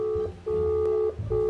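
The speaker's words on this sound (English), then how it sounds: "Okay, her phone is ringing." An outgoing phone call rings out as a repeating ringback tone, steady electronic beeps in short, evenly spaced bursts, heard close and alone.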